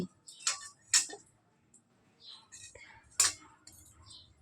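A baby bangs and clatters a small toy cooking pan and utensils, producing a few sharp metallic clinks and rattles spread out with pauses between them, close and fairly loud, with soft background voices.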